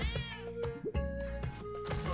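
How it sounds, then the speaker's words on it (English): A cartoonish cat meows in the cave-exploring platform video game Spelunky 2, two or three short tonal meows in quick succession over layered game music and effects. "I hear cat. I can theoretically get to that cat."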